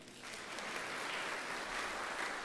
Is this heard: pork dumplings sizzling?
no